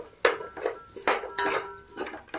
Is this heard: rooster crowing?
no